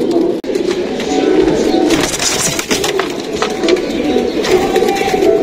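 Murshidabad Girebaz pigeons cooing in a loft, a continuous overlapping chorus of low throaty coos with faint rustling and occasional higher chirps, fairly close and without talk.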